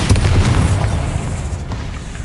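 Bombarda explosion spell cast in Hogwarts Legacy, a loud, sustained booming blast with heavy low rumble that rolls on for a couple of seconds without fading much.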